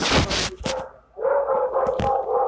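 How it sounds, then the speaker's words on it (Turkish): Several dogs barking in a game setting: a burst of sharp barks up front, a brief pause, then a steady whine-like tone with more barks cutting in, fairly close and moderately loud. "Arkadaşlar burada çok köpek var."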